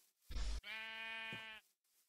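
A sheep in a video game gives a single clear bleat, preceded by a short burst of noise, heard alone and fairly faint.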